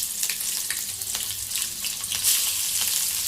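Green chillies fry in a pan for a spicy egg fry, giving a steady, close hissing sizzle with a slight swell toward the end and no voices.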